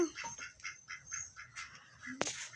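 A duck in a video game quacks in a rapid, rhythmic series of nasal calls, followed by a sharp click.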